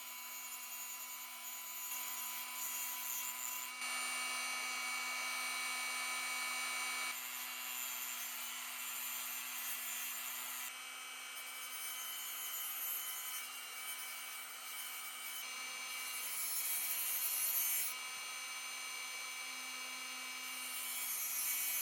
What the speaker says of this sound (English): using a Dremel tool, just gonna take off this edge here. I'll just be using a cutoff wheel.